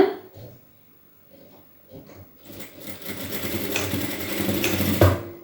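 A sewing machine stitches blouse front and back pieces, starting after a quiet pause and then running as a steady, fairly loud whir that builds toward the end.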